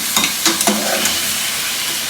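Onions, tomatoes and green chilies sizzle steadily in a pan for pyaz gosht, with a few scraping clicks from stirring over the close, continuous frying hiss.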